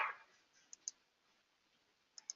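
Two pairs of quick, faint mouse clicks, well spaced apart, heard against a near-silent background in a quiet computer workspace.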